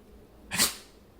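A small dog gives a single quick, sharp sneeze, a brief airy burst close to the microphone against a quiet background.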